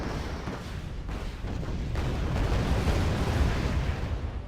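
Heavy 1,000 kg bombs explode in the strategy game Wargame Red Dragon, producing a loud, rumbling, sustained roar of blast noise that swells and lingers throughout, with no voices over it.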